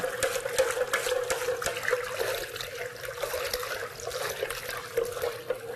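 Liquid candle wax sloshes and swirls steadily in a container, a continuous wet stirring sound with soft scraping, close by and moderately loud, no talking.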